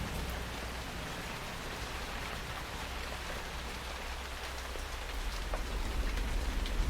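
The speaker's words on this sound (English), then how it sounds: "A spring downpour has descended on Hushin Isle," Heavy spring rain pours down on an island, a constant broadband hiss of drops striking surfaces that swells slightly louder toward the end, with no voices.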